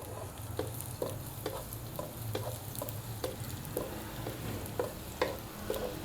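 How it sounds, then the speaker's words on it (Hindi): Chopped garlic sautés in oil in a pot, giving a steady close sizzle and frying hiss broken by soft, repeated scrapes and taps of a stirring utensil, with no talking. "इसको हम सोते करेंगे।"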